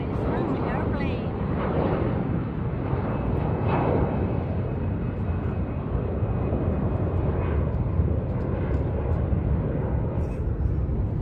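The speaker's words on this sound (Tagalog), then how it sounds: "Ayun, may lumipad na naman na isang airplane." An airplane passes overhead at night in Tung Chung, a steady broad roar that holds throughout at moderate distance, with a person talking over it.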